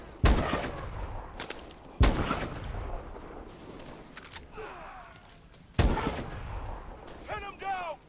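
Gunfire in the video game Call of Duty: Advanced Warfare: three sharp, loud shots spaced a couple of seconds apart, each with a short decaying tail, with faint background game sounds between them.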